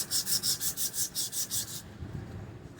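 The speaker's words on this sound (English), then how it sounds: "the hub didn't want to quite fit over the spindle, so we used some emery cloth to clean it up," Emery cloth rubbed back and forth over the hub spindle of a 1990 Honda Civic, giving about eight quick, even rasping strokes up close before the scrubbing stops.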